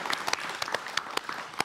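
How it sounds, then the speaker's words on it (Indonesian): Studio audience at a Yogyakarta television talk show on legal aid applauds steadily, a dense wash of claps with a few sharper hand strikes standing out, fairly close and moderately loud for under two seconds. "Tepuk tangan sekali lagi."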